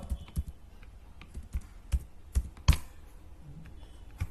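Fingers tapping a computer keyboard while typing Bangalore into an Excel sheet, a quiet uneven run of distinct clicks and key strikes, close and alone.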